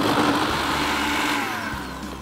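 A kitchen blender whirs loudly, blending a thick sweet potato chocolate mousse in a steady motor drone that eases slightly toward the end, with no voices.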